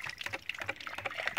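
Water gushes and splashes from a hand-built pump that runs without electricity, a steady close, bright trickling and pouring with no voices over it.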